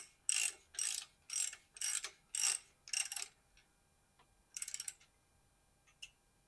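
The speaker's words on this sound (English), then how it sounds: "finish up tightening down the non-drive cup with that same tool" A tool tightens the non-drive bottom bracket cup on a randonneur bicycle, making six quick bursts of ratcheting clicks in a steady rhythm, then a pause and one more burst with a final faint click.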